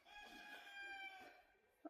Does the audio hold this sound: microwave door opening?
no